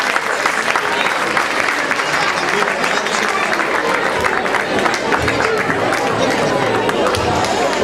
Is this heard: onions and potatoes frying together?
no